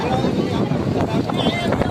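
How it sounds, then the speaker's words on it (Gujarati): Strong wind buffets the microphone in gusty rumbles while voices talk over it, outdoors at a crowded Ganesh idol immersion. "જો કેટલો પવન છે"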